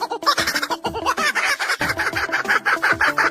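A kookaburra calling, a loud, rapid string of cackling, laugh-like hoots that pulses in a quick, even rhythm and builds through the call over faint background music.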